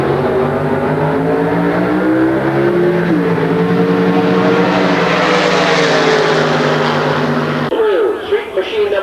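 Nostalgia drag race cars, including a roadster, roaring down the strip in a loud, sustained engine blast that climbs in pitch and then cuts off, with a track announcer faintly underneath.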